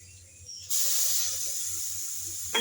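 Milk poured into a hot pan of semolina and mango halwa sets off a sudden, loud hiss that holds steadily for a couple of seconds, up close.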